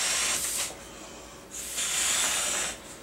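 Air hisses in two bursts, one brief and one longer, as the two-way valve on a sleeping pad is twisted open and pulled up, close and fairly loud.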